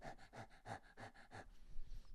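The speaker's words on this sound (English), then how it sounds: "you can obviously tell it's dogs because one of them's panting" A dog pants close by, about seven quick rhythmic breaths in a row, then stops, leaving faint background noise.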